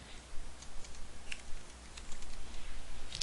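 Typing on a computer keyboard: soft, irregular key clicks tapping along in quick bursts, close and faint over low background hum.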